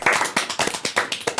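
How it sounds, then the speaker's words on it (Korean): A few people clap briefly and lightly, with about a dozen quick, close claps in an uneven rhythm, for the start of a 2024 quarterly company review. "다들 박수"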